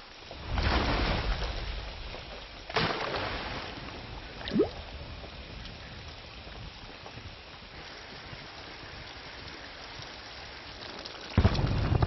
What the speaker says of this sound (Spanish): Descargando hasta 50 milímetros de lluvia cada hora.